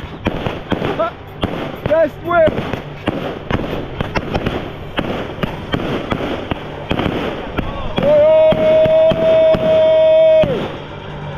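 Fireworks going off at an outdoor MTB freeride contest in Mexico, a string of loud cracks and pops mixed with crowd cheering, talk and a sustained whistle-like tone near the end.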